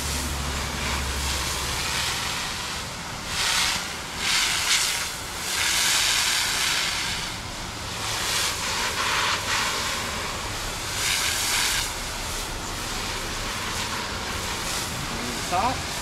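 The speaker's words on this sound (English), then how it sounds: "take my little pressure washer jet nozzle. I'm just gonna clean him off." A small pressure washer jet nozzle sprays water over a freshly caught stingray resting on a cooler at the New Smyrna intercoastal, a steady loud hissing spray with surges and dips, continuous throughout.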